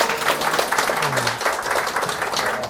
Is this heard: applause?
yes